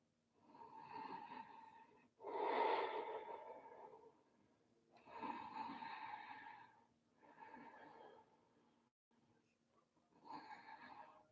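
Slow, deep yoga breaths drawn in and released through the nose, several long soft inhales and exhales in an unhurried rhythm, close and quiet with no talking.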